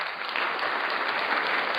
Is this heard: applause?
yes